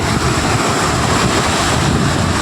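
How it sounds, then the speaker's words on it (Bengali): Floodwater current rushing through Ward 4 of Kushmandi, a steady, broad roar of moving water, loud and continuous, with heavy wind buffeting on the microphone and no voices. "দেখো আমাদের এখানে বন্যা চালু হয়ে গেছে, কীরকম জলের স্রোত চলছে"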